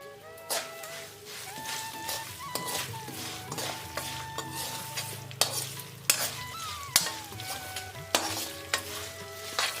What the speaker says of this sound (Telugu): పోపు రెడీ అయిపోయింది